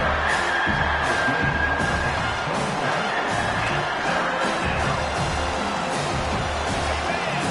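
Home crowd at an Auburn college football game roaring on third down, a broad sustained stadium din under continuous play-by-play commentary.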